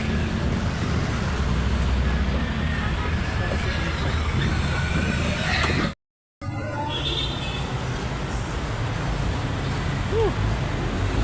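Road traffic on a roadway beside a floodway at night in Rodriguez, Rizal: a continuous loud roar of passing vehicles with a heavy low rumble, briefly cut to silence midway, then resuming with a faint horn-like tone.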